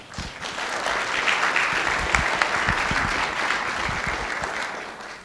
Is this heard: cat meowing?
no